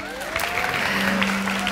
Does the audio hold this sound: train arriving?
no